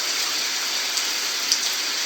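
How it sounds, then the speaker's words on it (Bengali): Heavy morning rain falling as a steady, even wash of hiss with a couple of faint splashy ticks, no voices heard. "সকাল সকাল কিরকম বৃষ্টি পড়ছে ধরে বৃষ্টি পড়ছে"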